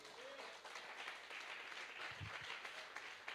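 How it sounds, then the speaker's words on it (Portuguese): Church congregation applauding during a worship service: a steady, soft wash of many hands clapping, heard faint and distant throughout. "Mais um aplauso ao Senhor."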